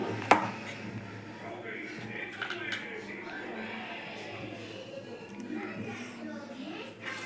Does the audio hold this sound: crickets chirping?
no